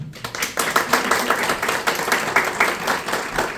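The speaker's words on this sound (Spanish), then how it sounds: "Un gran aplauso para Cristina Molina." An audience at a book event applauds an author, with crisp, close clapping from a modest crowd, individual hand claps distinct within a steady burst lasting several seconds.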